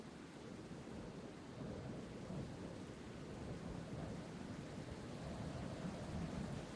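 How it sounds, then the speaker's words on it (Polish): Steady rain falls with low rolling thunder in a video game, a dense continuous wash of rainfall holding an even level throughout with no voices. "Już jest deszcz, już pada deszcz od tego momentu."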